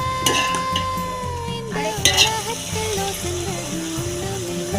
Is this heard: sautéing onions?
yes